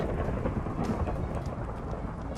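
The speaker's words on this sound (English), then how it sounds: "Thunder boomed all around us." Rumbling thunder rolls through a Minecraft storm, steady and fairly loud, with rain hissing underneath and no voices.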